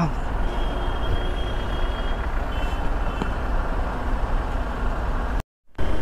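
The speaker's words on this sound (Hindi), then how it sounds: "भाई साहब इतना ट्रैफिक यार" Heavy road traffic with trucks and buses on a route to Kedarnath, a steady loud rumble of engines close by with a faint high beeping tone, cut off briefly near the end.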